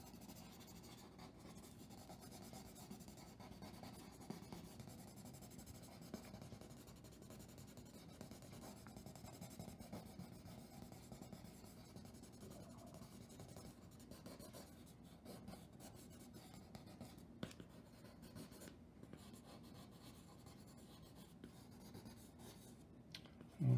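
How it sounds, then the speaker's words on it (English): A pencil scratches and shades on paper while drawing trees and weeds, a steady close rasp of graphite strokes continuing without pause, with no voices. "So, wearing down this pencil."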